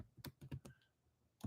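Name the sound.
typing on a computer keyboard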